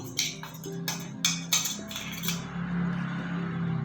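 Goddu khara, a spicy village dish, being spooned into a serving bowl: a handful of sharp metallic clinks and scrapes of a utensil against the bowl, followed by a steady low kitchen hum.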